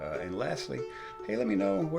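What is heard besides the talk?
No distinct noise like a dog, phone or traffic.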